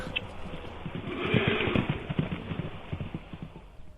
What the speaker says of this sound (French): Et aujourd'hui, on élève des chevaux pour les loisirs.